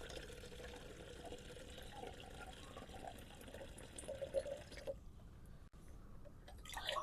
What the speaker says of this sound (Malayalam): അതിലേക്ക് നമ്മൾ ആദ്യം ഒരു അര വരെ വെള്ളം ഒഴിച്ചു കൊടുക്കാം